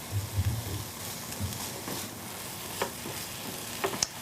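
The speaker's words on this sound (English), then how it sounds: "Those onions are softening up." Onions soften in a pot, giving a low steady frying hiss broken by a few soft stirring knocks and scrapes, with no voices.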